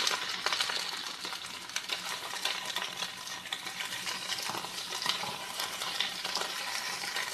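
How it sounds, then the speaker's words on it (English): Vegetables sauté in hot oil in a skillet, a steady close sizzle broken by light clicks and scrapes of stirring, with no voices. "All right, my oil's hot. I'm going to add my veggies in."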